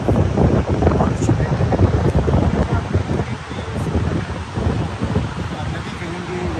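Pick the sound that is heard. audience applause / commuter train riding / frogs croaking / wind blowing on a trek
wind blowing on a trek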